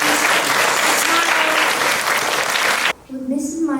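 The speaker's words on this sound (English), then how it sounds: "Can we have a round of applause for these students?" Dense, loud applause from a school presentation-day audience honoring students fills most of the clip, then cuts off abruptly, leaving a quieter room where a voice begins.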